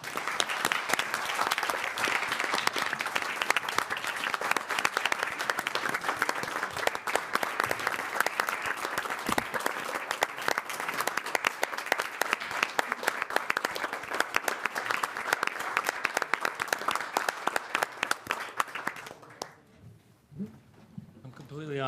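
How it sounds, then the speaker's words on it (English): Audience at a city council meeting applauding Nathan after a police department challenge coin presentation, dense steady clapping for about nineteen seconds that then stops abruptly, leaving a quiet room with a faint voice. "Please give Nathan a round of applause."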